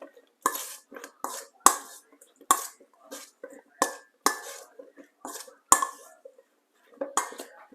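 Mushrooms being tossed with two tablespoons of Walker's jerk seasoning in a bowl for Jamaican jerk mushrooms, giving repeated close clinks and scrapes of a utensil against the dish in short irregular bursts.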